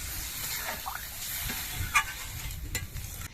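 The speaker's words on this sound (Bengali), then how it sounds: "এবার এর মধ্যে আমি ঝোল দিয়ে দিচ্ছি" Gravy added to hot spiced oil while cooking silver carp curry, giving a steady broad sizzle and hiss with occasional stirring scrapes, close and continuous with no talk.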